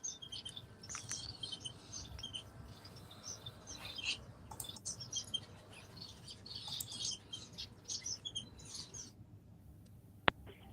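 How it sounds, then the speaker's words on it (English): Small birds chirp and tweet in quick, scattered bursts throughout, thin and fairly faint against a low background hum, heard with no talking. "All your birds, we can hear loud and clear now."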